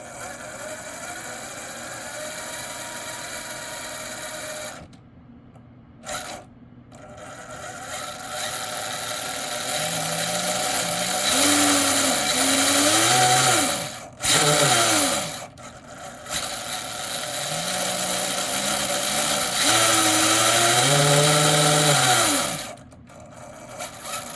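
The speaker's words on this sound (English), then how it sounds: "Gears are still machining themselves in. I've only had it full throttle for a couple of seconds." A Vanquish VRD carbon-kit RC rock crawler's motor and freshly built gears whine up and down in several bursts, rising and falling in pitch with brief silent pauses between runs, close and fairly loud.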